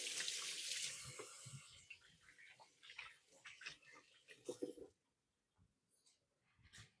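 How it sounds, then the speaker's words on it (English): Running water from a sink tap splashes as hands are rinsed in a home kitchen, a soft hiss with uneven splatters that cuts off abruptly near the end. "I'm going to give my hands a quick rinse"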